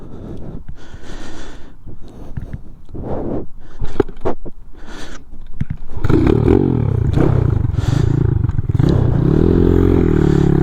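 Honda Z50R street-legal minibike engine cruising on a highway at about 30 mph, a loud steady drone with harmonic whine that steadies in the second half, wind buffeting throughout.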